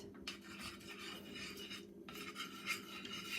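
Ingredients for no-bake healthy snack bars being stirred together in a bowl, a close continuous scraping and rubbing with brief pauses, no talking.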